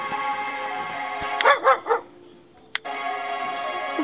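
In the pizza video game Good Pizza, Great Pizza, a dog barks three times in quick succession, loud and close, over a steady electronic music bed.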